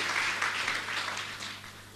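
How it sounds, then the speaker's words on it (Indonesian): Congregation in a church applauding for Jesus, a thick, steady wash of many hands clapping that tapers slightly toward the end. "Tepuk tangan sekali lagi bagi Tuhan kita Yesus"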